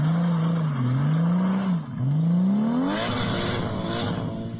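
A turbocharged Mazda 323 Familia GT-R engine revs up and down loudly and close by, the pitch rising and falling in long sweeps before a harsher surge near the end.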